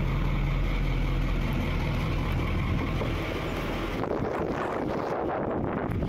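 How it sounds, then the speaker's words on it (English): A Caterpillar 3208 diesel engine aboard a 1977 Thompson 44 trawler runs at a steady idle, a loud, continuous low rumble with wind-like noise that shifts in character partway through, with no voices. "Go ahead and fire up the motor here."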